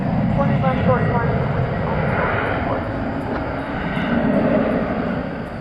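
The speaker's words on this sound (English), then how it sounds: "Off to Guadalajara goes this 737-800. It's American Airlines Flight 2063." An American Airlines Boeing 737-800 takes off at night from DFW Airport, its jet engines a steady, loud broadband roar throughout, with a voice talking over it.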